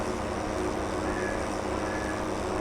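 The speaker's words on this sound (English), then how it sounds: "This is not the best tractor for pulling this trailer." A tractor in Farming Simulator 22 pulls a loaded trailer, its engine a steady, broad drone with constant road-like rumble and no breaks across the short stretch.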